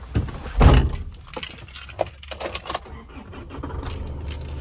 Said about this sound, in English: Vehicle does come with obviously two remote keys, as you can see there, they are the Isuzu genuine key.